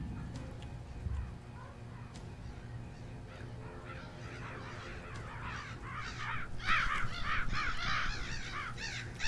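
Crows cawing in repeated harsh calls, building from scattered caws to a loud, dense chorus near the end, with a low rumbling background throughout.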